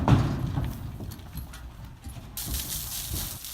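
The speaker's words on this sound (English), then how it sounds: "it's time to trailer this horse" Horse hooves on a trailer floor as a horse named General is loaded into a stock trailer at a horse sale, steady close thuds with a brighter clatter late on, no talk.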